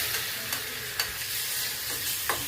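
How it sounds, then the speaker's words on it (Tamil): Coconut and cardamom sauté in a pan with a soft continuous sizzle, punctuated by several light scrapes of a spoon stirring; close, moderate volume, no speech. "இப்போ இது வதங்கி எடுத்து இந்த பழத்தை சேர்த்துடலாம்."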